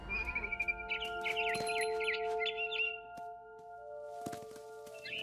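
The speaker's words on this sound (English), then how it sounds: "I heard chirping outside my window. It was a barn swallow going back to her nest." Thin, high barn swallow chirps in a video game flutter in a quick series over a faint electronic hum, with soft tapping sounds scattered through.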